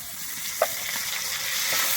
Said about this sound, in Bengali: আমি টমাটো দিয়ে খুব ভালোভাবে এখানে কিন্তু ভেজে নেবো